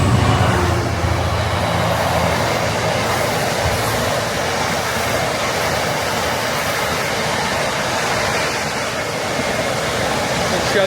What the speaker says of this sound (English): Oh, it's a freight. Oh, 66301.